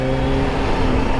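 A supercharged 200 hp Kawasaki Z H2 motorcycle accelerates hard, its engine a loud, steady, high-pitched roar heard close and continuous throughout.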